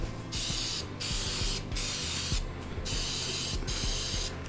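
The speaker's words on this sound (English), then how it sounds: "As we spray our pan" Several bursts of aerosol cooking spray onto a pan hiss close by, each lasting about a second with short pauses between, over a low background rumble.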